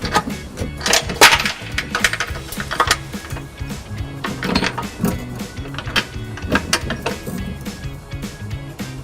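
A carriage bolt is drawn with fish wire through an access hole in the frame of a 2019 Ford Escape during a trailer hitch install, giving irregular metallic clunks, rattles and scrapes up close.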